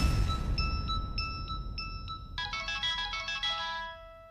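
A mobile phone ringtone for an incoming call from an unknown number, a bright electronic melody of short repeated tones that shifts into a faster, busier phrase, close and clear with no talk.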